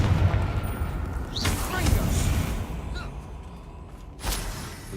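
A Confringo spell blast in Hogwarts Legacy: booming bursts with a sharp crack near the middle and another toward the end, over a rumbling battle din with voices present.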